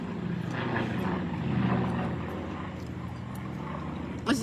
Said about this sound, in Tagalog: May helicopter dito.